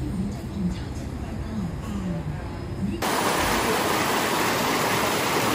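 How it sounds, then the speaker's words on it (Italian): Small waterfalls in a natural setting near Chiang Rai, Thailand, give a steady broadband rush of flowing water that grows louder and brighter partway through, as if moving closer, with faint voices underneath early on. "qui abbiamo beccato anche delle piccole cascate"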